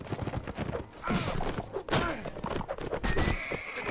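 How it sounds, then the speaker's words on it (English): A horse in the Mount & Blade: Warband video game neighs after being lamed, its whinny mixed with hoof clops and dull thuds amid busy battle noise. "My horse, it's been lamed!"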